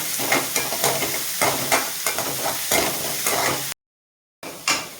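Onions sizzling and frying in a pan on a stove for egg kothu parotta, with repeated scraping stirs of a spatula, close and steady, briefly cut off before the frying resumes.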